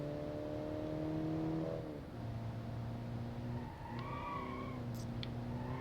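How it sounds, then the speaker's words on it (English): A car engine in a video game drones steadily, its pitch rising then dropping sharply, followed by a lower steady hum with a brief squeal of tyres near the end. "This car makes a noise."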